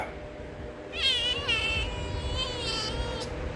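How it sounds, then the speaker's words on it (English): A kitten meows several times in a row, fairly close, with a steady low background hum and no talking. "Hi, this is my kitten."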